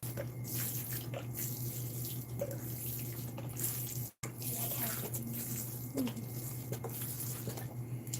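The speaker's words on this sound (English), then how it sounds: "Put water on the bottom, the reservoir bottom." Water trickles and patters as it is poured into the bottom reservoir of a homemade plastic bottle waterer, a steady light splashing against a constant low hum.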